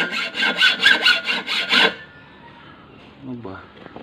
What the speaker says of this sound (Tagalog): Mapurol na yata yung lagari niya.